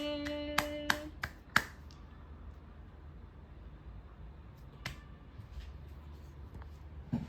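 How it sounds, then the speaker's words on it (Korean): A handful of sharp, close hand claps in a quick irregular burst, then one more later, from a parent with a baby during a Bible reading at home, with quiet room noise between. "그거 빼고 박수 치는 거야."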